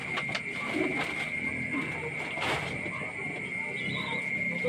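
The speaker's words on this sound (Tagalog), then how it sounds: "Maglulod na naman po tayo ng ating mga ibon." Pigeons being loaded onto a truck in Calamba, with soft cooing and bird calls close by over a steady background hum and rustling throughout.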